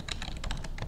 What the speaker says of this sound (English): Next, I'm going to type in my username